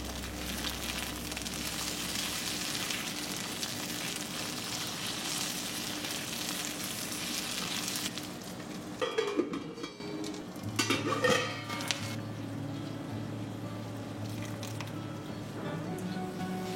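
Cumin, ginger paste, peas and green chillies sizzle steadily in a pan for a radish ghonto, then the frying is broken by a few clattering stirs and scrapes near the end.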